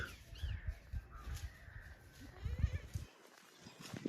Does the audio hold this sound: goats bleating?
yes